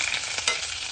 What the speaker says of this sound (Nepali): यसरी मजाले भुट्ने गरेर हालिदिनु होला